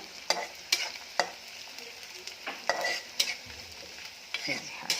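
Onions frying in a pan for chicken curry, a soft sizzle broken by repeated stirring scrapes and clinks of a utensil against the pan at an irregular rhythm, heard close.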